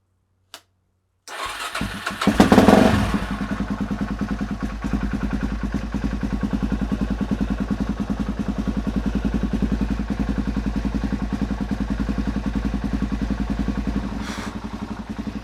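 A Suzuki DRZ400SM motorcycle engine under restoration cranks and catches after a brief silence, then settles into a steady, loud, rapidly pulsing idle that runs on close by with no talk.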